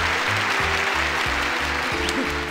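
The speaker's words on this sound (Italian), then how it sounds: "Un applauso per il partecipante numero uno!" Applause sound effect in the video game OMORI during a dating-show style scene, playing over looping game music with a pulsing bass line; clapping is thin and steady beneath the music.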